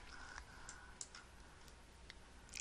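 Faint, sparse computer mouse clicks tick out in a quiet room, a handful of small separate taps spread over a few seconds with a slightly louder one at the end.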